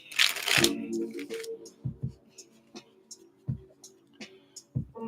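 Tarot cards are riffled and shuffled close up in a quick flurry, followed by scattered soft taps and slides of cards being handled.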